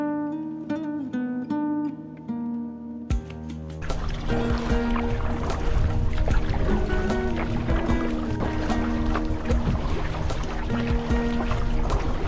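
A kayak paddled on open water against a strong headwind on a solo trip around an island, with steady splashes and water sloshing under wind after a brief quieter start.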